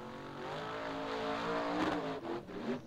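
Off-road race car with a newly fitted engine at the Sindratorfæran hill climb near Hella, Iceland, its engine revving hard with rising and falling pitch, loud and fairly close.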